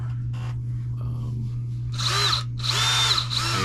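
Electric drill run in reverse, reaming out a cork rod handle to fit a fishing rod blank: a steady motor hum with three loud, grinding bursts of bit chewing through cork near the end.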